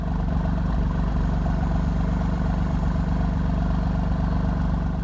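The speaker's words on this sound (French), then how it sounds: "je vais démarrer pour vous cette belle beauté italienne. Question de vous faire écouter son moteur" Alfa Romeo Giulia Quadrifoglio fitted with a modified exhaust, idling at a steady, close, deep rumble with a constant low throb and no revving.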